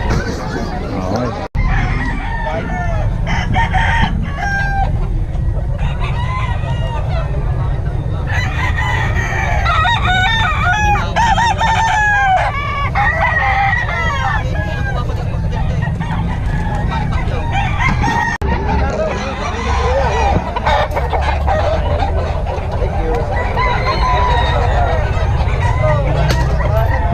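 Many chickens at a busy poultry market crow and cluck loudly and nearly continuously over a dense background hubbub, with several overlapping roosters near and far and some people talking.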